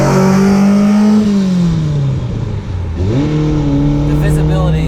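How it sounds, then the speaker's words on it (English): A vintage Ferrari Dino GT4 engine revs up to about 7,500 rpm in the cabin, a loud harmonic drone climbing, dipping, then rising again. "Vintage Ferrari revving to 75."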